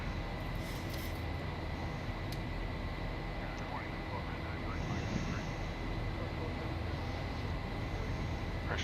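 Boeing 737-800 jet engines climbing out after takeoff in the X-Plane 11 flight simulator, a steady broadband roar with a constant whine, continuous and even in loudness throughout.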